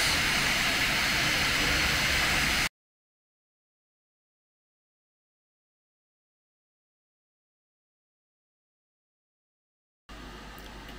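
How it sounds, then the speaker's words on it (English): Bambu P1P 3D printer runs with its cooling fan at high speed, a loud steady whoosh that cuts to silence for several seconds, then resumes more quietly. "pumping up the fan speed to cool it quicker"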